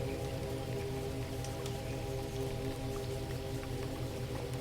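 Quiet, steady rain pattering on leaves, a soft continuous patter with faint scattered drips, alone with no voices.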